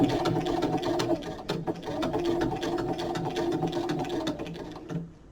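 A sewing machine runs a straight stitch through a pen case, a steady whirring mechanical rattle with needle clicks that keeps going, then winds down and stops near the end.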